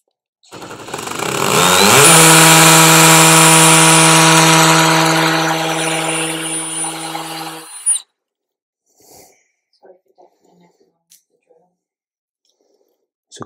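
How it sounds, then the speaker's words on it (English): A high, whining power drill spins up and runs steadily for several seconds before cutting off, followed by a few soft handling clicks in near silence. "So we're literally gonna drill this one out here."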